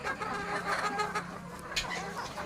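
Roosters kept alongside goats on a small farm cluck faintly in scattered, overlapping calls against a rustling background, somewhat distant and quiet.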